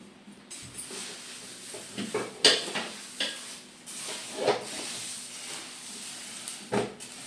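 Spiced puffed rice chiwda tossed by hand in a metal vessel, giving a steady crisp rustling hiss with scattered light clinks and scrapes, close and moderately loud.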